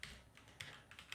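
Quick typing on a computer keyboard, a few close, light key clicks in an uneven burst, quiet and alone.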